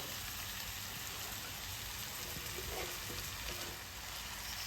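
Flattened rice (poha) sizzles in a pan over a low flame, a soft, even hiss that stays steady and fairly quiet throughout.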